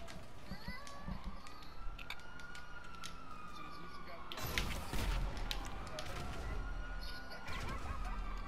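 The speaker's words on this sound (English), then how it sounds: "Dumbass police car." A police car siren wails in a video game, its rising and falling tone sweeping continuously and swelling louder midway, mixed with other game sounds.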